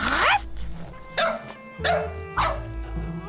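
Dogs bark in short, loud, close bursts, about four separate woofs spaced unevenly, with some background murmur between them.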